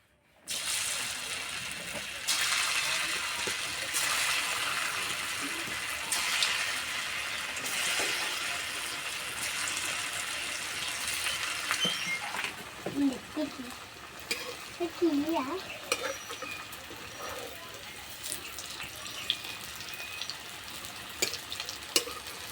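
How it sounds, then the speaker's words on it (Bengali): Mung dal dhoka cakes fry in oil with a continuous crackling sizzle, louder at first, later joined by clinks, stirring sounds and faint voices in the background. "এবার ধোকাগুলো ভেজে নেব।"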